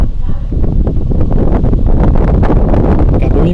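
Wind gusts blow steadily during rain, a loud, continuous rushing with rustling bursts filling the whole stretch, close to the microphone.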